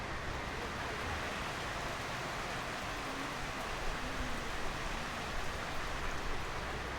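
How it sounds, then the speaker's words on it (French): Heavy rain pouring at a boat jetty in Alleppey, Kerala, a dense, steady hiss that fills the scene without pause and with no talk. "On est à l'embarcadère du bateau et il pleut à torrent."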